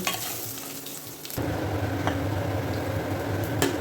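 Food sautéing in a hot pan during home Kerala-style cooking, a steady close sizzle and stirring scrape that grows louder and denser partway through, with no voices.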